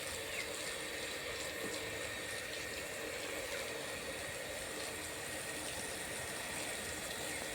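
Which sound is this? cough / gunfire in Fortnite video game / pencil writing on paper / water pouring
water pouring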